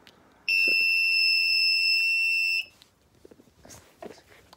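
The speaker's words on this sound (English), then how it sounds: "there's one buzzer." A homemade annoying machine's electric buzzer blares one steady, loud, high-pitched tone for about two seconds, then cuts off, leaving faint room noise and small handling clicks.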